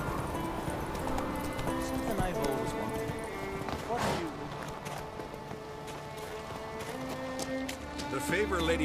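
A horse in The Witcher 3 gallops with rapid hoof beats under music and game dialogue, and a faint whinny-like note comes partway through.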